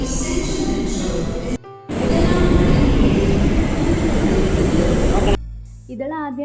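Chennai metro train ride: a steady, loud rumble of the moving carriage fills the clip, briefly cut by a short gap, then easing off near the end as a voice speaks over a quieter background.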